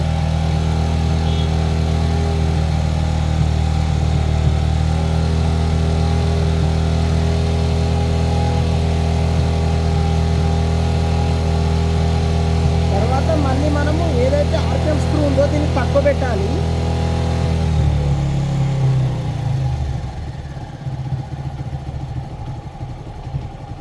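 A TVS motorcycle engine idling steadily during carburettor mileage adjustment, a loud close low rumble that holds even for most of the time, then drops and fades toward the end, with a voice talking over it.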